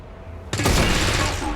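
Clone troopers open fire in XCOM 2: after brief quiet, a dense burst of rapid gunfire erupts at once and rolls on without pause, loud and close, with blasts overlapping to the end.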